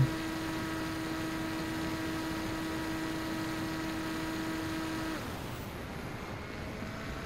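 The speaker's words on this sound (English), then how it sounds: "You can hear the engine tone changing as it does so." Electric motor of a Cyclops Tornado model airplane in flight, a steady droning whine that holds one pitch and then shifts to a lower, softer tone near the end, heard from a distance.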